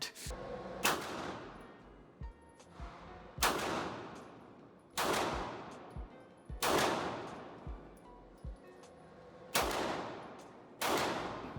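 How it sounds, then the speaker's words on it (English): Real firearm shots, six sharp loud reports spaced irregularly over about eleven seconds, each with a ringing decay, with no talking. "I'm going to show you a clip of it right here. Warning, real gun coming in."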